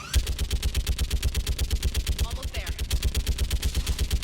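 Sustained rapid turret gunfire in Mass Effect 3, a steady fast rhythm of loud, even shots running throughout while someone speaks briefly over it.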